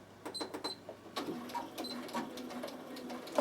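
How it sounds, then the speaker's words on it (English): A Bernina sewing machine stitches forward and reverse along a fabric edge, a soft rapid mechanical patter in short runs with small clicks and pauses, quiet and close. "I'm just going to put my foot on the edge there, and I'm going to go forward and reverse"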